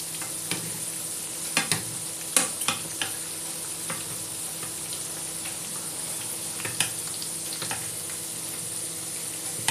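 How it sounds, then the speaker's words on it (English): Meatballs frying in a pan give a steady, close sizzle and hiss, broken by a few soft clicks and scrapes of stirring, with no talking. "Might take a little bit to finish cooking them."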